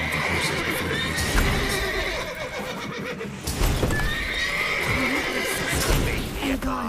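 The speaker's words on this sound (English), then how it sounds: "Alright, horses, you need to chill, dudes." Horses in The Witcher 3 neigh and whinny loudly with a few hoof stamps, several calls rising through the scene while someone talks over them.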